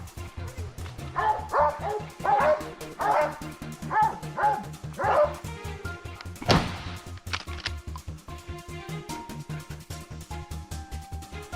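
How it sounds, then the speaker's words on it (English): Hunting dogs on a wild boar chase bark and yip repeatedly in rapid bursts, fairly close and loud, with a sharp burst midway and continuing whines and barks afterward. "Barking echoed from afar, signaling boars hiding in a muddy drainage"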